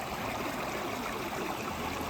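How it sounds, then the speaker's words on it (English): A babbling brook flows steadily beside a hiking trail, a continuous broadband rush of moving water with no voices over it. "And a babbling brook to go with it."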